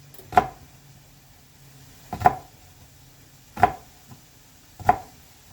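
Knife chopping food into thirds on a cutting board while preparing a pasta bake: four sharp, separate cuts at an uneven pace, close and clear over a quiet kitchen background.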